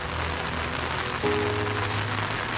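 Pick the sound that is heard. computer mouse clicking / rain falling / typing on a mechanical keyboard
rain falling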